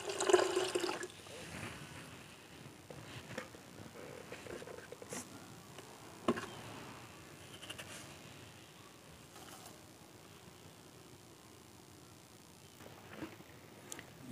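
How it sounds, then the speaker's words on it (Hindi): Fresh water is poured into a gold recovery solution made from scrap mobile phone and computer circuit boards. A quiet splash and trickle comes first, then faint dribbling and small knocks against a low background. "हम थोड़ा फ्रेश वाटर या साफ पानी इसमें ऐड कर लेते हैं ताकि सॉल्यूशन थोड़ा डाइल्यूट हो जाए।"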